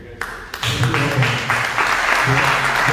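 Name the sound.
audience applauding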